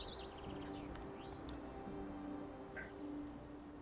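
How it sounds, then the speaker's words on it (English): Several birds chirp and tweet in short, high, repeated bursts, soft and somewhat distant, with a faint steady ambient background and no talking. "And birds chirping."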